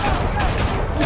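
Sustained gunfire in the Batman: The Telltale Series video game, a dense continuous volley of shots filling the whole moment, loud and close with no gaps.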